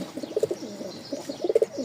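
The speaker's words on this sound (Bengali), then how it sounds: "এই দেখেন এখানে অনেকগুলো কবুতর চলে যাচ্ছে" Pigeons coo close by in short repeated throaty bursts, two clear rounds of soft rolling calls with no talking.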